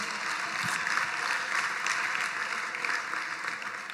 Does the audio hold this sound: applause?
yes